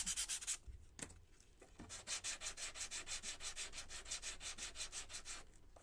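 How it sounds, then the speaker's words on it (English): Small wooden bunny feet from a DIY kit are hand-sanded with quick, even back-and-forth strokes, a close, soft rhythmic rasping that pauses briefly and then resumes steadily. "let's go ahead and sand our little feet"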